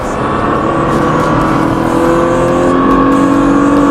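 A race car engine roars loudly and steadily, pitch climbing as it accelerates hard, with a constant close, droning whine throughout.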